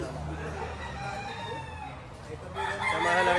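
Rooster crowing at a Lipa, Batangas farm where fighting cocks, stags and bull stags are sold, a drawn-out call rising over background clucking and farm noise, with a louder burst of crowing near the end.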